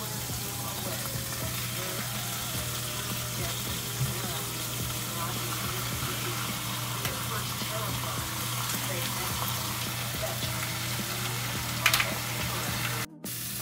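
Pork chops sizzle steadily in a hot pan, a continuous close frying hiss holding level throughout with a brief clatter near the end.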